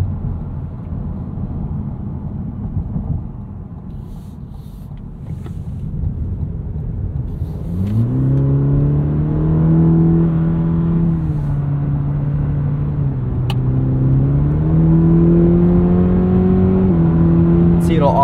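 A 2023 Cadillac CT4 engine revs up in sport mode and climbs through the gears while merging onto an expressway, its rising hum growing louder and steadier as the car accelerates, with a voice talking over it.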